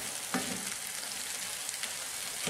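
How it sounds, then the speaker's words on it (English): Lentil mince with spices and tomato paste sizzles steadily in a hot pan while being stirred, a constant close frying hiss with a few soft scraping stirs. "We're going to stir that in."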